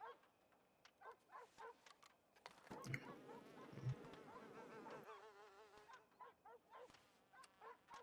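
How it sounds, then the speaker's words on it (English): Buzzing bees in a western role-play video game, a shrill, wavering drone that swells in the middle of the stretch, with someone talking before and after and brief yapping barks mixed in. "It sounds kind of, like bees."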